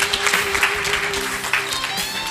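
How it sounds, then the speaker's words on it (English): Brief burst of audience applause at a policy round table gathering, steady clapping throughout the short moment with a faint tonal hum underneath. "Okay, another round of applause, please."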